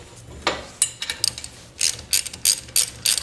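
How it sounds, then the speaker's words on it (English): During a broken garage door spring repair, a ratchet loosens the set screws on the spring, producing close, crisp clicking bursts in uneven quick runs with short pauses between them and no voices. "And we have to loosen the set screws for the spring."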